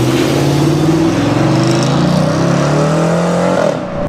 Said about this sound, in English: The 2008 Dodge Challenger SRT8.